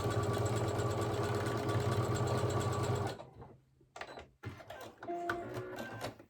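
Sewing machine zigzag stitching along leg elastic on a pair of Birch trousers, running loud and steady for about three seconds, then stopping, followed by quieter fabric handling and a few short mechanical clicks.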